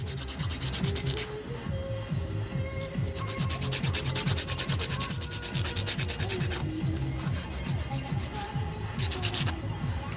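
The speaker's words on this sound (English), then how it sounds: "So take that touch-up file and detail those sides." A touch-up file works the sides of artificial nails in quick repeated back-and-forth strokes, a close, steady scratchy rasping with a regular rhythm throughout.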